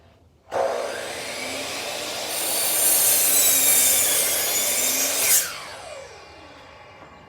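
A miter saw cutting through wood: the motor spins up abruptly, the blade grinds through the stock with a rising, rasping whine for about five seconds, then the motor winds down, close and loud with no speech.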